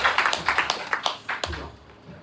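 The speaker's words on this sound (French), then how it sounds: "Merci, acclamez pour vous-même." A church congregation applauds in a short burst of quick, close hand claps that thin out and fade within about two seconds.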